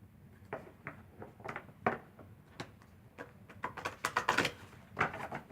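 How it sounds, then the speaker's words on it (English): Deck of cards shuffled by hand, giving soft, irregular riffles and flicks that build into quicker, brighter bursts, close and quiet. "I don't shuffle my cards unless I'm told to. I was told to, so I'm doing that."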